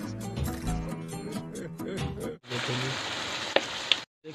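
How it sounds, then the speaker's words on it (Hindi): Tomatoes hit hot oil in a kadhai of village-style chicken qorma, bursting into a loud, dense sizzle that carries on steadily after a stretch of background talk and clatter, with a couple of sharp metallic clinks near the end. "हम टमाटर डाल रहे हैं उसके अंदर"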